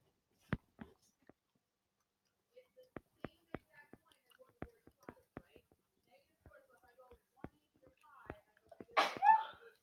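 A single sharp sneeze bursts out near the end in a quiet classroom, following scattered faint clicks and taps of pens and small movements.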